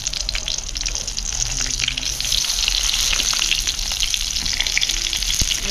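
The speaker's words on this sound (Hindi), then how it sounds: "देखिए करके देखिए बैगन को डालेंगे, इसको देखिए सीधा ही करके डालेंगे" Eggplants hit hot mustard oil in a wok and set off a loud, steady hiss and crackle of frying that carries on without talk.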